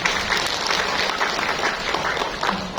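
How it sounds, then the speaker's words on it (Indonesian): An audience at a school parenting seminar claps together in a steady, dense burst of applause lasting a few seconds, fairly close and loud. "Tepuk tangan untuk kita semua."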